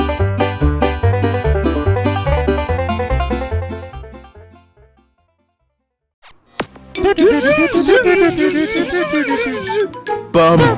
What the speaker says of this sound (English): That's the sound of the load up screen for the most famous Nintendo console